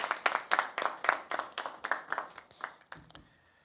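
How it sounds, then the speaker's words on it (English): A small group claps at a press conference, about a dozen distinct bursts of applause in a quick uneven rhythm that thins out and fades near the end, fairly quiet and close. "I think we should all give them, a round of applause for their work."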